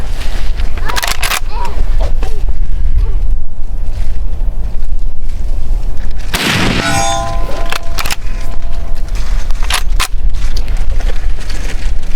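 A lever-action rifle fires a 158-grain Speer Gold Dot load at a 200-yard outdoor competition. One loud, booming shot rings out amid constant heavy wind buffeting, and a sharper crack follows a few seconds later.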